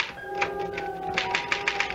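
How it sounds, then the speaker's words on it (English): A typewriter clatters in a radio drama scene, a run of quick irregular key strikes and taps over a steady background hum, fairly close. "I had to get back to that infernal machine, the typewriter."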